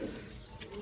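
A pigeon, one of a closed-tail breed, gives a short, soft, low coo nearby, lasting under a second.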